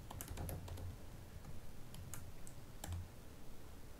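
Quick, light keystrokes on a computer keyboard as a name is typed, in small bursts of clicks over a faint background hum.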